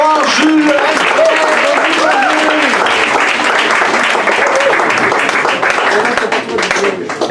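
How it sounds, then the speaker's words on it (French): Crowd applause at a slam poetry event, dense loud clapping from a lively audience with a few voices calling out early on, sustained throughout before easing slightly at the end. "On l'applaudit bien fort, Jules, Alfred"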